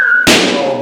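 A single sharp bang of a balloon popping bursts out abruptly after a faint steady tone, then fades in a short ringing decay.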